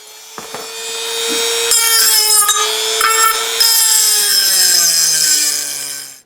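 Power grinder cutting into a metal stove burner ring, a loud sustained high-pitched whine with a shifting tone and brief surges, close and alone.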